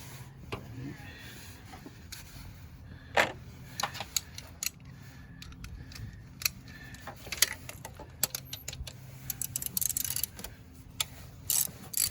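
Ratchet loosening 13 mm alternator bolts on a 2001-2007 Jeep Grand Cherokee Laredo 4.7L, heard as irregular close clicking bursts and metallic taps with brief pauses, low background rumble throughout.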